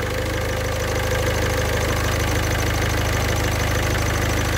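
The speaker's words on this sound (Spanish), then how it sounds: "Ese ruido parece del cojinete de empuje" A car engine idles with a worn clutch thrust bearing, a steady close drone overlaid with a fast, regular ticking chirp that repeats evenly throughout, with no voices.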